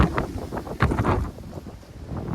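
Strong wind buffeting a microphone on a mountain vista along a Pennsylvania hiking trail: loud, gusty low roaring bursts that swell and fade close to the mic, with no speech.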